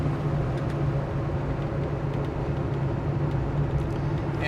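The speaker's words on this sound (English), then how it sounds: "Flowmasters on the car, they do have a little bit of a throatier sound" A 1970 Ford Mustang with Flowmaster exhaust drives along, a steady, throaty low engine drone heard from inside the car, continuous and even with road noise beneath it.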